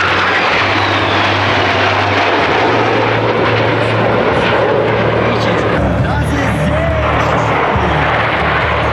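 Large aircraft with a 22-meter wingspan passing at an air show, a loud broad engine roar with a low propeller-like drone sustained throughout, under a public-address voice.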